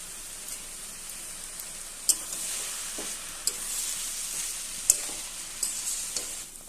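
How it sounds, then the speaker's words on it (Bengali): Vegetables, green chilli and egg sizzling and frying in a pan for egg momo, a steady close hiss broken by sharp scrapes and clacks of a spatula stirring. "ভালো করে নাড়তে হবে"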